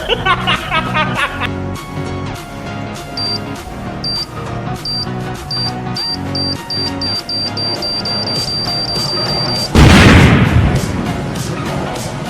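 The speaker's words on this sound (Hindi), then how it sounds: "बम की आवाज़ है तो ठीक थी" A firecracker bomb goes off at an outdoor picnic in Chhattisgarh: a single loud, sudden blast near the end that breaks through steady music with beeping tones playing throughout.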